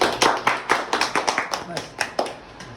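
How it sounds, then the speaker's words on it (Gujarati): An audience claps for Mukesh in quick, evenly spaced bursts, about a dozen sharp close claps over roughly three seconds, with voices talking over the applause. "તાળીઓ પાડો ચાલો મુકેશભાઈ"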